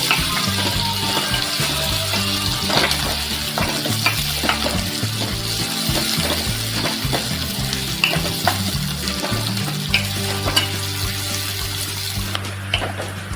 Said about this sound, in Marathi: कांदा आपण व्यवस्थित असा परतून घ्यायचा